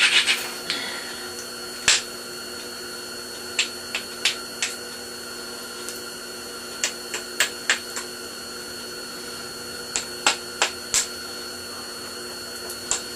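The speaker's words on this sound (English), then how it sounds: "Grind that edge again." Edge of a knapped Scottsbluff stone point ground with an abrader, heard as a close, irregular series of short, sharp scraping strokes over a quiet background, with no talking.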